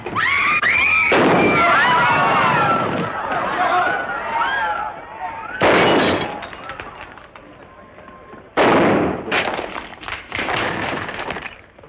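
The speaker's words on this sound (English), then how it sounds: "Hey, that fella can shoot." Gunshots ring out in a 1940 Roy Rogers western film, with several sharp cracks in separate bursts over shouting and action noise.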